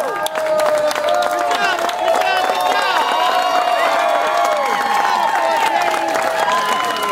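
Spectators at a triathlon cheering and clapping as a competitor passes, a lively crowd with shouts and children's voices over steady applause, people chatting nearby.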